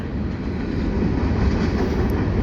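A train rumbles past nearby, a steady heavy roar with a faint rhythmic rattle throughout.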